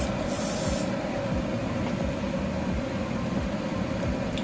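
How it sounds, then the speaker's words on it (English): An aerosol spray can hisses steadily while painting an MG 1100 scale model car, a close, continuous spray sound with a brief louder burst at the start. "I'm going to go ahead and I'm going to spray this"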